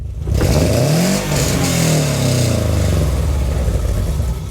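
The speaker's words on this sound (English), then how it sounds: "We are riding in style with the Yonaka exhaust. It's a cammed Subaru, so it's got that sound to it." Cammed Subaru Impreza GG engine revving hard through a Yonaka catback exhaust, a loud, close rising-and-falling rev with a brief dip before climbing again, sustained throughout.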